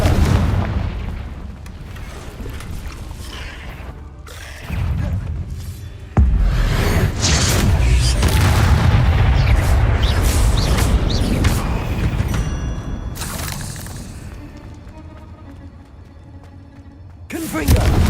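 Confringo spell explosions in Hogwarts Legacy, loud booming blasts with a sustained rumbling roar, sharp new bursts breaking in partway through and again at the very end.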